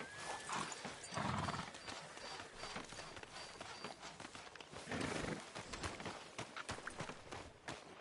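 Horse hooves clip-clop in Red Dead Redemption 2, a fairly quiet, irregular run of hoof thuds with a brief whinny early on, mixed with ambient town noise.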